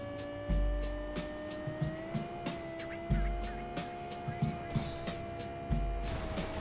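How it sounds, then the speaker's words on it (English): Car in the racing video game Forza Horizon 5 hits something with a few heavy low thuds amid a sustained engine whine and scattered clattering impacts, all at moderate level. "Boom, there's the crash."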